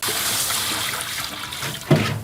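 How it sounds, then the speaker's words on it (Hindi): Water pours into a cooking pot in a steady, fairly loud gush with a splashy bump near the end, heard alone without talk. "अब हम इसी बर्तन में पानी डाल देंगे।"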